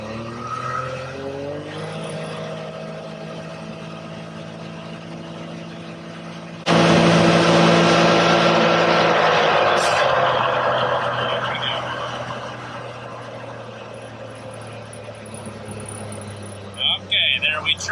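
Can-Am Maverick X3 engine with a misfire, idling with a steady tone before revving hard past 6,000 RPM into a loud, sustained roar that slowly eases off, ending with a few short bursts.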